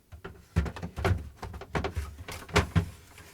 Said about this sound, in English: Now the crisper drawer cover goes in.